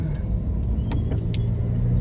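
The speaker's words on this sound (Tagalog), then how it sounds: "Maraming sasakyan dito." Steady road traffic rumbles outside Caloocan City Hall, with car engines humming and a vehicle briefly revving amid continuous low noise, no talking.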